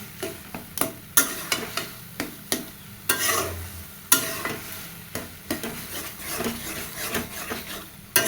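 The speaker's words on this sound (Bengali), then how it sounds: "এবার ভালো মতো ভেজে নেব। আরও ভাজতে হবে, আরও শুকনো শুকনো করতে হবে।" Boiled taro leaves and vegetables stir-fried in a pan: a steady sizzle punctuated by regular scraping stirs of a spatula, close and fairly loud, with no talk.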